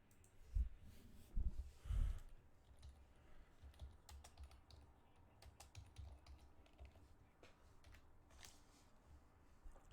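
Computer keyboard typing at a desk: a quiet run of soft key clicks fills the stretch, with a few louder low thumps and breaths near the start, close and faint, no speech.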